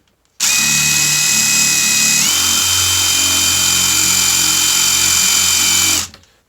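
A power drill runs in reverse, spinning a screw against wood to burnish a hole; a loud, steady high-pitched motor whine with a brief pitch shift partway, starting and stopping abruptly, no voices.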